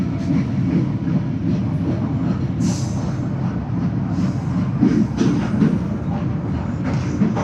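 The Matarmaja passenger train rolls through a station without stopping, heard from inside a carriage as a steady, loud rumble of wheels on rails with rattling and a brief high squeal.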